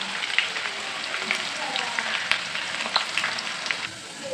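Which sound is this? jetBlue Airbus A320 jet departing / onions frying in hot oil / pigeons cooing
onions frying in hot oil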